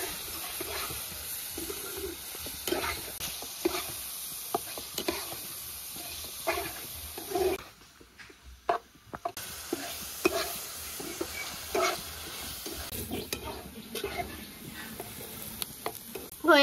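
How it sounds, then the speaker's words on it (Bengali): Diced potato and pointed gourd fry with turmeric and salt, a continuous sizzle broken by repeated stirring scrapes, with a brief quieter lull midway before the frying noise returns. "ভালো মতন ভেজে নেব।"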